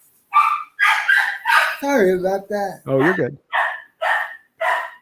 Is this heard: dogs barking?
yes